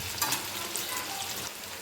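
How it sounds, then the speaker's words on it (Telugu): Chicken curry pieces fry in hot oil in a pan, giving a steady, dense sizzle and crackle that holds evenly close up for about two seconds, with no talking. "నేను కొంచెం ఫ్రై, కొంచెం గ్రేవీ చేస్తున్నాను. ముక్క కదల్చకుండా వేయించుకోవాలి."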